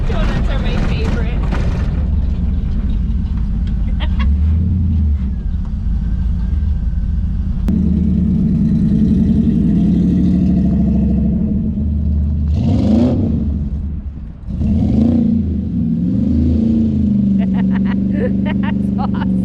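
An LS-swapped 1957 Chevy doing donuts, its engine roaring and revving loudly and continuously with surging pitch swings, while a voice talks over the start of the run.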